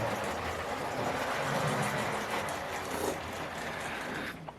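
A Hornby model train set runs steadily into a station, giving a continuous rolling rumble with light clicking from the track, close and fairly even, with no talk.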